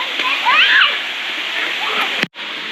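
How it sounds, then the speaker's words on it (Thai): A waterfall at Santa Then in Chonburi, Thailand, gives a steady, close rushing roar of falling water across the whole stretch, with faint voices mixed in. "น้ำตกชันตาเทน"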